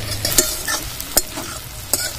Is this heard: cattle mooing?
no